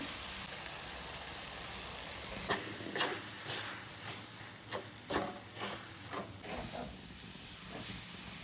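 Coconut mixture for coconut barfi being stirred gently in a pan, soft scraping strokes repeating in an uneven rhythm over a steady hiss of cooking, close and moderately quiet.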